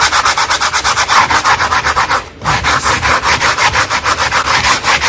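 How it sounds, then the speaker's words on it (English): A small sanding block rubs back and forth over layered painted wood, loud rhythmic scraping strokes at an even quick pace, close up, with one brief pause midway. "Sometimes what I do is I take a little sanding block."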